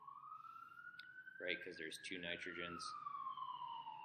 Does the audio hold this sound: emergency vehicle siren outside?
yes